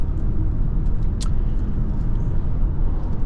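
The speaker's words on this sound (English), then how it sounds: "We're doing about 70. So there's a refinement check for you." Steady low road and engine rumble inside a Mazda CX-90 3.3 Turbo cruising at about 70 mph, a constant, even drone with no breaks.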